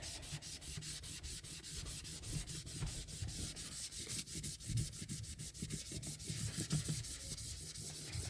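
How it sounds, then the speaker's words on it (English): Steady, rhythmic scrubbing of a surface to lift off intense terra cotta folk-art paint, a close, continuous rubbing with quick repeated strokes and no voices. "I'm scrubbing, trying to get it off of there."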